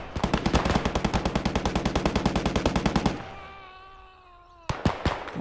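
Machine gun fire in the WWII video game Gates of Hell: Ostfront: a loud, rapid, evenly spaced burst for about three seconds, a fading ringing tail, then another short burst.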